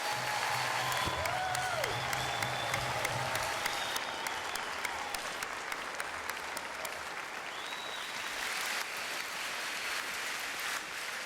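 Sustained audience applause fills a university convocation hall for a graduating class, dense steady clapping throughout with some tonal background sound and faint voices underneath.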